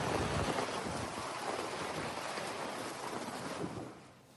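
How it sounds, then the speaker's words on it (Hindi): Heavy rain falling in Reasi, Jammu and Kashmir, a dense continuous roar of downpour, loud and close, easing slightly at the very end. "रियासी इलाके में भारी बारिश हो रही है।"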